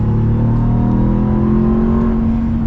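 A 2023 Ram TRX with its supercharged Hellcat V8 accelerates hard, a loud, steady engine roar with climbing harmonics that holds up close throughout, with no talking.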